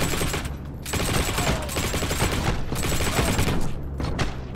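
Sustained bursts of gunfire in the WWII shooter game Heroes & Generals, a dense, continuous fusillade of rapid shots filling the clip from start to finish, loud and close with no talk over it.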